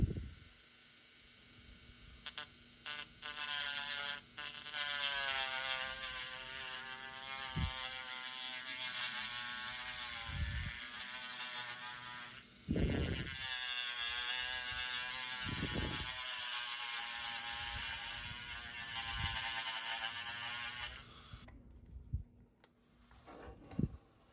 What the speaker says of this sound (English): Okay, so I have my mini rotary tool, and I'll go to level 2